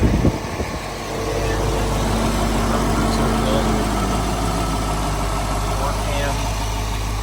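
A 1990 Corvette ZR-1 with its Lotus-designed four-cam 5.7-liter V8 in 405-horsepower spec idles steadily and close by, a deep, even hum with a low throbbing undertone that holds throughout, with a voice talking over it.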